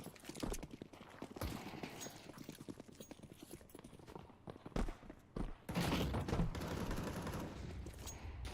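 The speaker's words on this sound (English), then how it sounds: "Equip fires down at range with the M4" Automatic M4 rifle fire in a Counter-Strike esports match, rapid gunshot bursts mixed with other game noise and hoof-like clatter, fairly faint and dense throughout.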